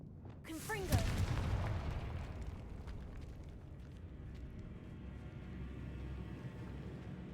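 A Confringo explosive curse blasts in a video game, a sudden broadband burst near one second that rolls into a long rumbling decay, with faint voice fragments mixed into the tail.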